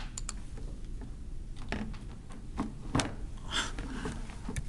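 Laptop keyboard keys tapped in short, irregular bursts, quiet and close, with brief clicks scattered over a steady low background hum.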